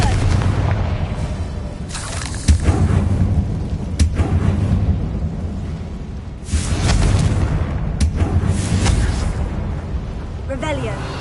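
Confringo fire-spell explosions go off in the video game Hogwarts Legacy, several heavy booms in succession over a continuous rumbling battle din, with a voice heard at times.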